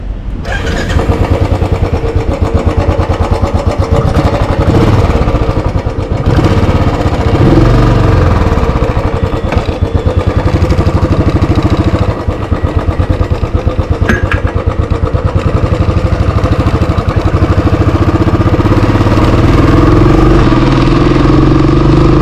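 Royal Enfield Classic 350 motorcycle with a 346cc single-cylinder engine runs at idle close by, giving a loud, steady, rapid thumping pulse that continues unbroken for the whole stretch, with no voices.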